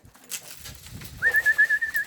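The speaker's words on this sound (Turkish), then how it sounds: "Şuna bakın kaç tane kuş geldi arkadaşlar." Racing pigeons landing back at their home loft after a 245 km race from Dizy-le-Gros, France: soft low cooing and rustling, then a steady, thin high whistling call held for under a second, close and alone.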